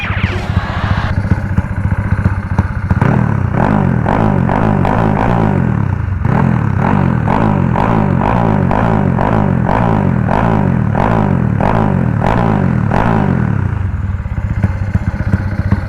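A Yamaha Blue 110i motorcycle with a four-valve engine and twin reed valves revs in second gear, loud and close, its engine note climbing and holding in a continuous, throbbing drone.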